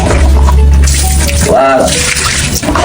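Water runs steadily from a tap while someone rinses their body and feet during washing, a loud, continuous splashing rush throughout with a voice speaking briefly over it.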